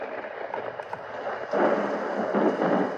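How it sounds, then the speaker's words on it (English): A sound machine plays its thunder setting, a continuous rumbling wash of stormy noise that swells louder midway through, heard alone without talk. "Thunder."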